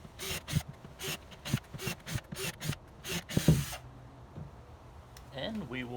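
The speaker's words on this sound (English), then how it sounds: "We drill some holes here real quick." A drill bites in short, repeated bursts while boring holes into plastic solo cups, close and fairly loud, and someone speaks briefly afterward.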